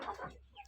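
Kuchinsky Jubilee and Barkovskaya hens give a short burst of close clucking, with low murmuring calls that fade and then briefly return.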